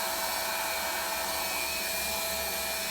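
A hot air welding gun for vinyl sheet flooring blows with a constant, loud, even hiss and faint tonal whine, uninterrupted throughout with no talking.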